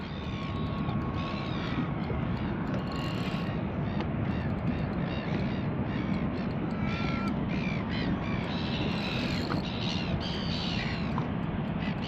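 Seagulls and crows fight overhead at a fishing spot, with harsh caws and squawking calls overlapping continuously against a steady outdoor rush. No one speaks.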